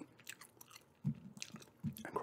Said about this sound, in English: this is a request for gum chewing